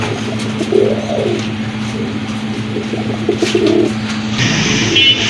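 Pigeons coo in low, throaty, repeated bursts nearby, over a steady background hum, with a brief higher chirp toward the end.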